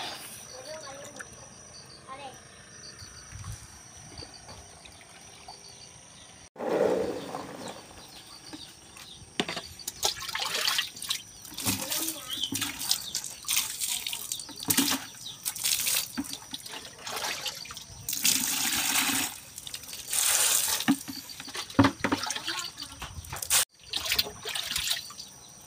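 Wild mangosteen fruits are rinsed and rubbed by hand in water, with splashing, dripping and trickling in bursts after a quiet start, while a person talks over parts of it.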